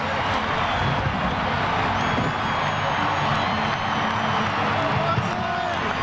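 A big ballpark crowd at AT&T Park in San Francisco applauds and cheers during a baseball game, a continuous roaring wash of clapping and voices, with a commentator talking over it.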